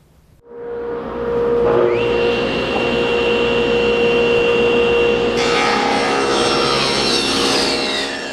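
A SawStop table saw spins up with a rising whine and then rips a narrow length of wood, a loud, close, sustained roar with a shift in pitch as the blade bites into the stock.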